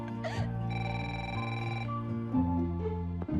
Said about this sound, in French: Marc, le téléphone.